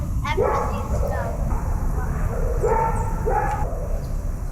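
A dog seeing snow for the first time barks and yips in short bursts, several sharp calls close by, over steady outdoor noise.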